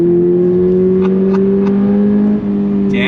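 A 2024 Toyota GR86 Performance Pack engine pulls on throttle along a road, a steady loud drone rising gradually in pitch as it accelerates, heard from inside the car with no talk.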